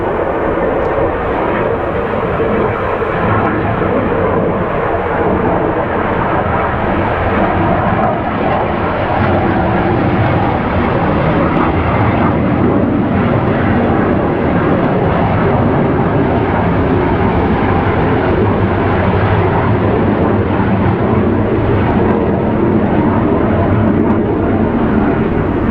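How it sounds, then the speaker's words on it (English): Jet aircraft flying overhead: a loud, continuous broadband roar that holds steady for the whole stretch with no talking. "There's been a bunch of jets flying around all day today for some reason."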